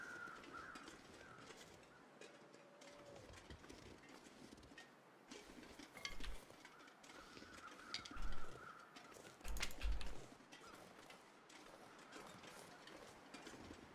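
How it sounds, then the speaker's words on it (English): Crows cawing in the snowy wilderness of The Long Dark, a few distinct calls rising around the middle amid faint ambient wind, moderately distant and sparse. "the crows will tell us if there's a dead body that we can search"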